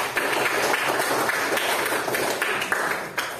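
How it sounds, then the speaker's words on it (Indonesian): A group in a teacher-training session claps together, producing a dense, sustained patter of hand claps that stays even and moderately loud throughout. "Tepuk tangan untuk kita semua."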